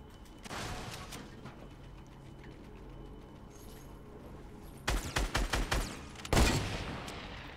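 Gunfire in the Fortnite battle royale game: a quick cluster of sharp, close shots around the five-second mark, then one heavier blast, with a quiet mechanical background before and between.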